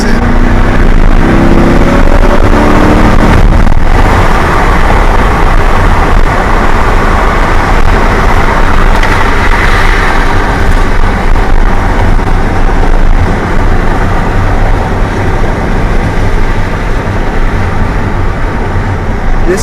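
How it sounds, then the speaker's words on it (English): A Corvette C8 with a 500 hp engine and stock exhaust, driven on the road, gives a steady, loud in-cabin drone of engine and road noise that swells briefly near the start and holds for about twenty seconds. "This is the stock exhaust,"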